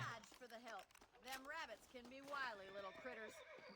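A horse neighs and whinnies in the cowboy game Red Dead Redemption, a loud rising-and-falling call repeated several times close up, with faint hoof clip-clops under it.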